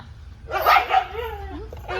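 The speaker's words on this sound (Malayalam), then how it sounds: "പട്ടി" A dog gives a loud close yelp followed by a drawn-out whine, then starts another yelp at the end.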